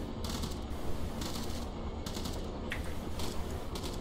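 Bursts of automatic gunfire in the military game Arma during an organised multiplayer session, rapid rattling volleys repeating in roughly half-second bursts over a constant, dense background of battle noise.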